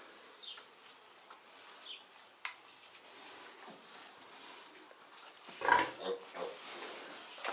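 Pigs on a farm, a sow with week-old piglets, give soft scattered grunts that rise to a louder burst of grunting near the end, with insects buzzing faintly in the background.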